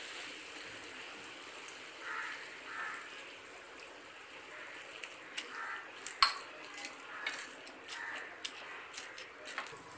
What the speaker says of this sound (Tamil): பிரெட் அந்த ஃப்ரை பண்ண பிரெட் மேலே பால் ஊற்றி இந்த மாதிரி ஸ்டேஜ் வர வரைக்கும் நல்லா கிண்டிக்கிட்டே இருக்கணும்